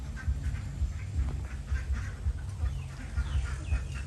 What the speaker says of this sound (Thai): เป็ดสวยครับเป็ดสวย